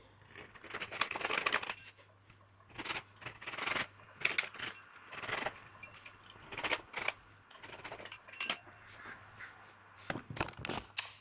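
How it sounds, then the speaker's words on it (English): A pizza cutter rolling through a tortilla wrap on a board, cutting it into eight triangles: a series of short crisp scraping and crackling strokes in bursts, close and fairly quiet over a low steady hum. "I have cut up my tortilla wrap into 8 separate triangles"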